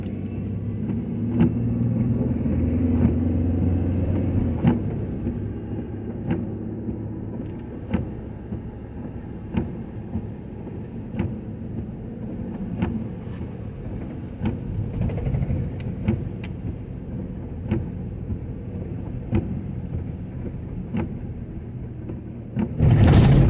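A car drives through the streets of Cleveland, Ohio, giving a steady low road rumble and engine drone with regular faint ticks from tyres on road joints, and a louder thump right at the end.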